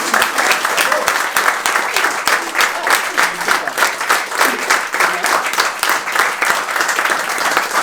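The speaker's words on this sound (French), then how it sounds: "je vous remercie d'applaudir aussi" A theatre audience applauds in a steady, dense wash of clapping that stays loud and even from start to finish, close and filling the room.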